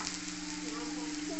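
Chopped onion frying in hot oil with ginger, garlic and green chili paste, a soft continuous sizzle, faint and close, with a low steady hum beneath.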